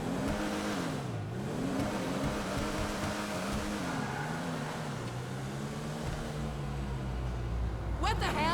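Dundreary Landstalker XL SUV engine in GTA Online, revving up and easing off in repeated swells. The tone is steady and close, with a brief sharper burst near the end.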